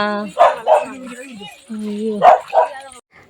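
A guard dog barks up close in two pairs of sharp yelps, with whiny, drawn-out tones between them and a short silence at the end.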